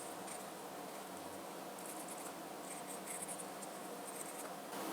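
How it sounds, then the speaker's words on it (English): A pen writing plant names on a seed tray label, faint soft scratching strokes close up in a quiet room, with small ticks of pen movement. "I'm going to write the name down and the row that it's in."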